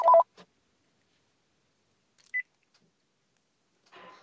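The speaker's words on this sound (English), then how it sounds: "I've got a phone call here." A telephone line gives a single short electronic beep amid near silence, with brief faint clicks and noise at the start and end of the call.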